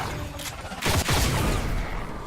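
Shotgun fire in the Robo Recall VR video game, with a sharp heavy blast and a booming tail following a faint earlier report, loud and close, with no talk.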